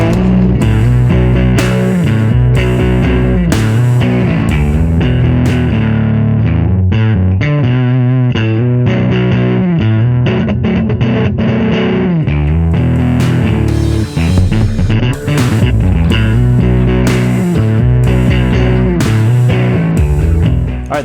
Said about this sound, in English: that last example was recorded using the 4th gear of this pedal. It produces the most fuzz-like type of effect